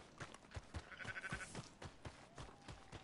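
Sheep bleating in Red Dead Redemption 2: a few faint, short bleats over quiet ambient rustling, rather soft and spread across the moment.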